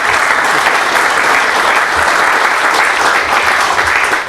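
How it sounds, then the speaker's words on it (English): Steady, full applause from an audience in a tent at a dedication ceremony for a wastewater treatment plant, a dense, close wash of clapping that keeps an even level throughout with no voices over it. "Hint, time to applaud."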